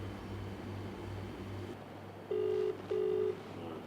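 Two short electronic telephone rings, steady tones each lasting under half a second, sound after a low hum, faint and alone with no talk.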